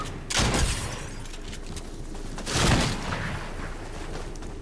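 Other players fire guns at close range in Fortnite: two heavy broadband bursts of shooting, one early and one past the middle, with a steady noisy game bed between them.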